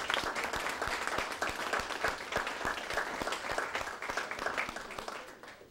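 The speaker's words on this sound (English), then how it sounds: "Please give a hand clap for Sergeant." Audience at a character and leadership workshop applauds with steady hand clapping, a dense crowd of claps sustained throughout at moderate distance.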